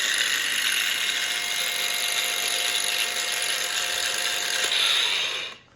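A DeWalt variable-speed grinder runs at its lowest setting, a steady high-pitched electric whine with a constant motor drone, close and alone, before cutting off abruptly at the end.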